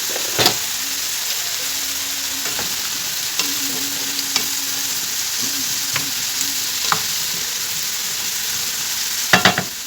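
Minced meat sautéing in a pan makes a steady, loud sizzle throughout, broken by sharp spoon-scraping and stirring clicks at irregular intervals.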